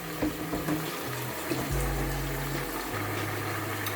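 Oxtail sauce with garlic, ginger and onion frying in a pot gives a continuous watery hiss and sizzle close by, steady and moderately loud with no talk.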